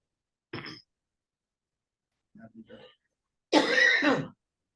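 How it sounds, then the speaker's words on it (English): A short throat-clearing cough, then after a pause a few low grunting sounds, followed by a loud, explosive, sneeze-like burst, all close to the microphone, during a library board meeting. "This is a cough and a sneeze simultaneously."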